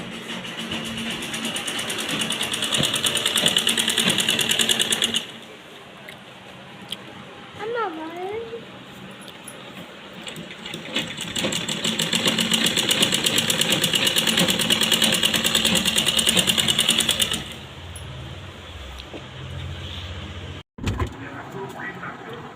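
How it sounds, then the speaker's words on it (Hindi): A sewing machine stitches a suit at home, running in long steady bursts with a buzzing mechanical whir, pausing briefly between runs; fairly close and loud, with faint background sounds during the gaps. "पहले मैं सूट को सिल लेती हूँ"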